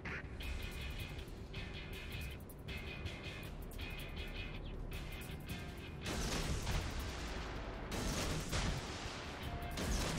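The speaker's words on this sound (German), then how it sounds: "Die Sekundären sind hier direkt fleißig am Ballern." Secondary guns on a battleship in World of Warships fire in rapid, repeated bursts, a dense volley of booms and pops over a steady low rumble of the ship and distant battle.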